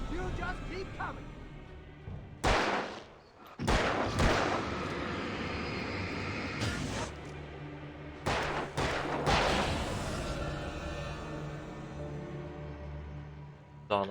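Gunshots from the Alan Wake video game ring out in a few sharp bursts, set against a steady in-game background with someone talking over it.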